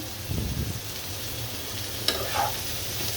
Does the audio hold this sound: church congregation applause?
no